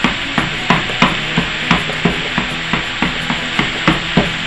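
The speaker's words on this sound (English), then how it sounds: "You don't add anything to the meat while you're frizzling it." Meat frizzling in a pan for a crunchy casserole: a steady sizzle under repeated, evenly spaced scraping strokes of a utensil, close and fairly loud, with no talking.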